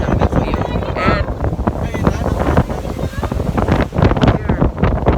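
Wind buffets a boat's deck in the rain aboard a yacht, a steady loud rush and flutter across the microphone with churning water and spray, continuous with no pauses.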